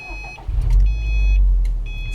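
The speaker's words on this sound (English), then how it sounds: "we're going to be going and starting the vehicle right now" A 2014 Subaru STI Limited engine fires up, a deep rumbling surge that swells and settles into a steady idle, loud and close, with faint electronic beeps chiming before and after.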